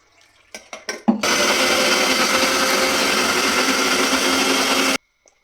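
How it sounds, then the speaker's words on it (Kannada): A mixer grinder grinds fried masala for a village-style country chicken curry, starting after a few short clicks and then running loud and steady for about four seconds before abruptly stopping. "ಎಲ್ಲ ಫ್ರೈ ಮಾಡಿರೋದನ್ನೆಲ್ಲ ಮಿಕ್ಸಿಗೆ ಎಲ್ಲ ರುಬ್ಬಕ್ಕೆ ರೆಡಿ ಮಾಡ್ಕೊಂಡಿದ್ದಾರೆ"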